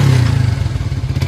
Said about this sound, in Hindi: अभी लगा दिया एग्जॉस्ट और अभी इसका साउंड सुनिए आप